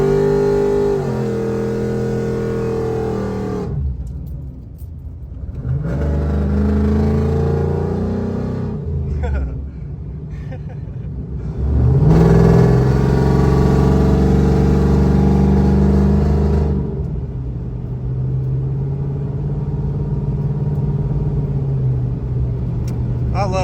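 A car pulls through twisty back roads, its mid-pitched engine humming steadily and rising with throttle out of the turns, close and continuous with someone talking over parts of it.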